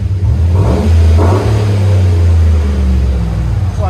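Chevy Suburban with a 5.3L V8 and Flowmaster Flow FX exhaust revving up, a deep loud rumbling drone swelling and easing, recorded close with steady engine drone throughout.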